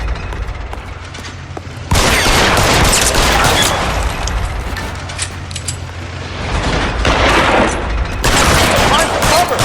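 Sustained gunfire in a shootout from the video game L.A. Noire, rapid overlapping shots and bursts rattling loudly for several seconds with a few pauses, set against heavy background din.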